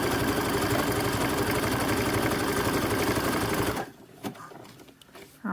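A sewing machine stitching fabric for boxer briefs runs in a steady, loud, even whir for several seconds, then stops abruptly, leaving quiet handling noises.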